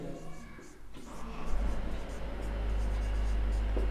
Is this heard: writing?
yes